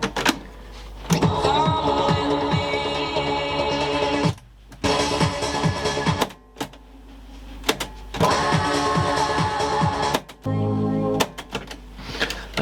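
An Aiwa CA-W75 boombox cassette deck, damaged, plays back in bursts of music and mechanical tape sound, loud and close, cut by brief gaps as it is stopped and restarted.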